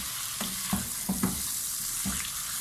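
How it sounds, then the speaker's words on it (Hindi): Chicken pieces frying in a pan, a continuous close sizzle broken by several soft thumps and stirring scrapes at irregular intervals, no speech. "चिकन को हम अच्छे से फ्राई करेंगे"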